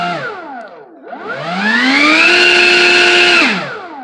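A Snapper 60V cordless leaf blower winds down, then revs back up into a loud, steady whine close by before dropping off again near the end.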